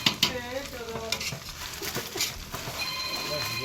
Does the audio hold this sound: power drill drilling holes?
no